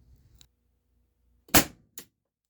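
A single sharp report from an Umarex Heckler & Koch VP9 air pistol, a loud close crack with a brief rattle after it, and faint handling clicks earlier.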